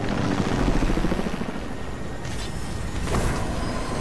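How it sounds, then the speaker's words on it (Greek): Helicopter flying overhead in the video game Fortnite, a steady broad rotor and engine drone that stays loud and close throughout, swelling briefly near the end. "είναι ένα ελικόπτερο εδώ πέρα"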